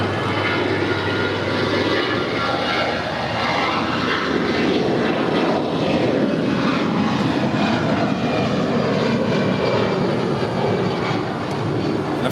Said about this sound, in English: notice the difference in terms of the noises because that engine spool up is so loud